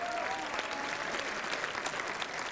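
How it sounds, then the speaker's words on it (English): Audience applause greeting Kyle Gold, a remote guest of honor, at the Megaplex 2021 opening ceremony: dense, steady clapping from a crowd throughout, fairly close and even in loudness. "Everybody, big round of applause for Kyle."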